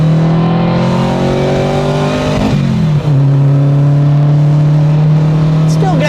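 A Renault R5 Turbo 2 accelerating hard, its engine note loud and close, climbing steadily through the revs. A brief dip at a gear change is followed by another rising pull, with a voice heard in places.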